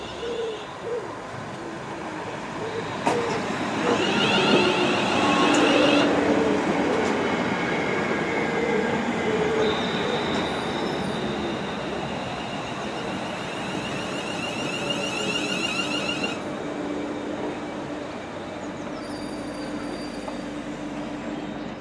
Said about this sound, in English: Now my train is actually pulling in now